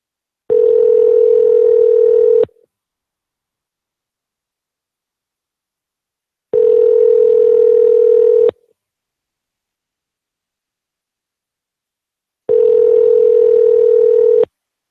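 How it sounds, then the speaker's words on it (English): A telephone line gives three long steady tone bursts about two seconds each, evenly spaced with silence between, loud and clear with no talk. "Let's see if we can get these people in."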